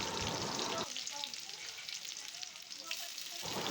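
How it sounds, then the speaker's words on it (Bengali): Sliced onions fry in hot oil in a wok for a Bengali mutton kasha, giving a loud, continuous crackling sizzle that eases for a few seconds mid-clip, then swells again. "কড়াইয়ে তেল গরম করে পেঁয়াজগুলিকে ভেজে নিচ্ছি"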